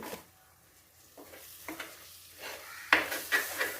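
Curry leaves go into a hot pan with a gentle sizzle, while a spoon scrapes and stirs in several distinct strokes that grow louder toward the end. The sound is close and quiet, with no speech.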